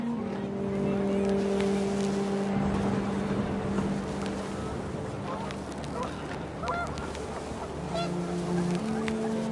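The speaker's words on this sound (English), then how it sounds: "The wind picked up, and panicked geese appeared and quickly went." Panicked geese honk in the video game What Remains of Edith Finch, loud repeated calls over a constant gusting wind bed and a sustained low drone, with game music tones mixed in throughout.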